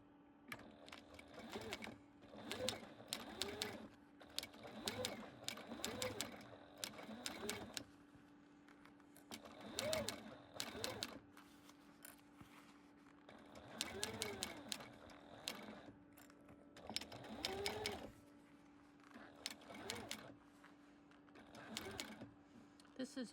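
A walking-foot sewing machine stitches a cover for an RV seat cushion, running in rapid mechanical bursts of a few seconds each, separated by short pauses, over a steady low hum.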